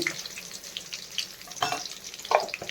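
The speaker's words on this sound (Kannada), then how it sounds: "ಇದೆಲ್ಲ ಸ್ವಲ್ಪ ಚೆನ್ನಾಗಿ ಫ್ರೈ ಆಗಬೇಕು" Curry leaves and cumin fry in a pan with a soft, close sizzle, broken by a few sharper crackles and scrapes over a brief stretch.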